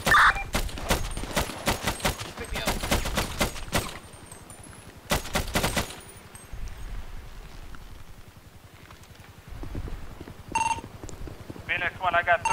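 Gunfire in a GTA roleplay police shootout, dense bursts of automatic fire and rapid shots alternating with quieter gaps, mixed with a ringing phone-like tone and players shouting over radio.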